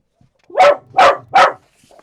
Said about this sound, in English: I'm going to have to take my little dog into another room soon